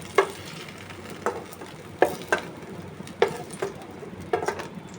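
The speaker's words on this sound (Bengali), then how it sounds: "এই যে বেগুনটা এরকম করে ভাজলাম" Eggplant frying in oil in a pan gives a soft steady sizzle, broken by a handful of sharp clicks and scrapes spaced about a second apart, close and fairly quiet.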